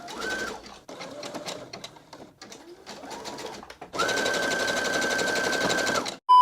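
Sewing machine stitching a curve on tapestry pants: short bursts of rapid mechanical whirring with pauses, then one long steady run of stitching, close and clear, ending abruptly.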